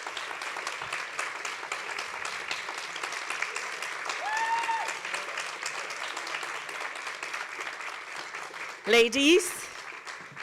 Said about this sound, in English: a big hand of applause for everybody who works in the backstage